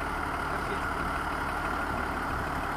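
A combine harvester's diesel engine runs steadily during wheat threshing, a loud continuous broadband drone with a low rumbling throb and no breaks, heard close by.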